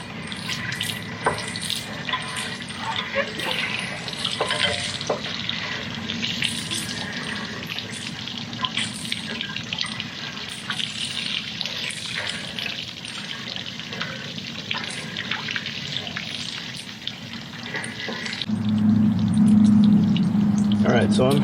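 Water rushes steadily out of an RV hot water heater tank being flushed and rinsed, a continuous broadband gush that grows louder and heavier in the last few seconds.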